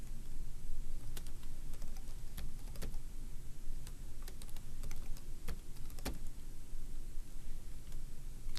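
A password is typed on a computer keyboard, with irregular, close key clicks and taps spread over steady low background hum and no talking.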